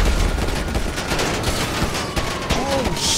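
Steady bursts of automatic gunfire in GTA 5 during a gang shootout, loud and close, with rapid overlapping shots and a few sharper cracks over a noisy background.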